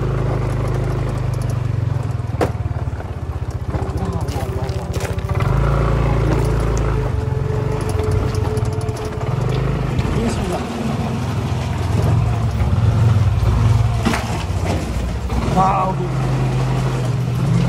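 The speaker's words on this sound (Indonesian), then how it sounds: "Jadi kita akan menggunakan motor untuk masuk ke dalam terowongan yang ketujuh ini" A motorcycle engine idles and revs as the bike rides into a rocky, sandy tunnel beneath the runway of Palu airport. The steady rumble runs throughout, close and fairly loud, with someone talking over it.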